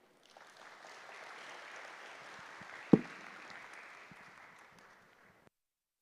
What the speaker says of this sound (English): Another round of applause to the Permanent Secretary of the Ministry of ICT and Innovation for his opening remarks.